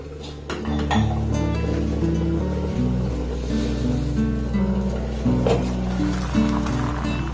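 A covered pot of rasgulla made with rice flour is shaken on a low steady hum, the lid and metal pot clinking and rattling repeatedly throughout.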